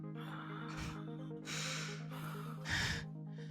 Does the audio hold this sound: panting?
yes